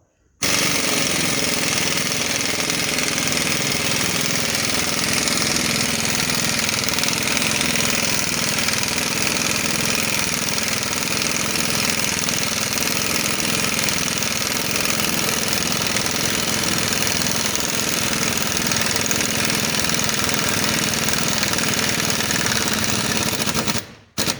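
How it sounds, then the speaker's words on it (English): A three-jaw puller is driven onto a Corvette harmonic balancer with the steering rack still in place, producing a loud, continuous rattling hammer that runs steadily for about twenty-three seconds with no talking. "Then you can get your puller on there, and here we go."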